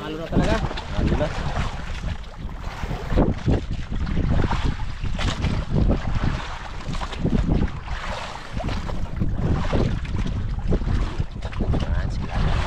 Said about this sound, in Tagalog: Magalaw na talaga ang bangka.